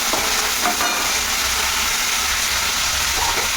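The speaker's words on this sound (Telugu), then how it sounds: "ఈ పక్కనేమో ఇది వేగిపోతున్నాయి, ఈ పక్కనేమో ఇది వేగిపోతుంది" Dried red chillies and curry leaves fry in hot oil for a tempering, giving a steady, close, loud sizzle with a few faint utensil scrapes and no talk.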